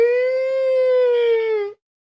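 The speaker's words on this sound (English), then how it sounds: "The sound effect that I'm talking about is the disaster weather alert siren in your city." A disaster weather alert siren sounds alone as one steady, loud, rich tone that holds level for nearly two seconds and then cuts off sharply.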